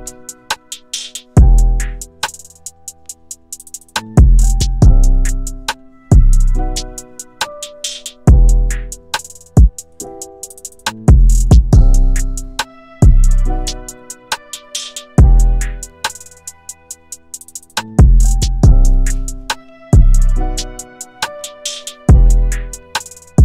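Full trap beat built on an eerie minor chord progression, with booming 808 bass hits, crisp hi-hat rolls and sharp snares under sustained dark chords, playing loud and rhythmic with no voices.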